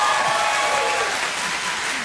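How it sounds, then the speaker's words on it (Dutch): Studio audience at a Flemish television winter show bursts into brief, dense applause, a steady wash of clapping that fills the short moment close and loud. "een applaus daarvoor, dat vind ik goed"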